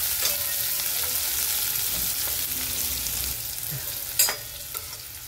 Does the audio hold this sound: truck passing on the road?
no